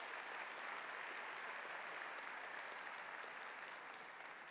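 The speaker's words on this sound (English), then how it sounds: "So please give them a round of applause to" Banquet audience at a conference awards event applauds the co-chairs, a faint, distant, even wash of many hands clapping that sustains without a break.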